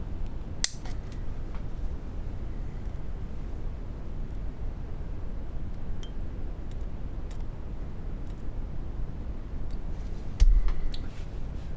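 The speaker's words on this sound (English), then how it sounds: "They are the ones you've got to make sure you snip off." Wire pins snipped off a model train sound decoder connector for a Heljan O gauge Class 73, two sharp small clicks, one near the start and one near the end, over quiet background hiss.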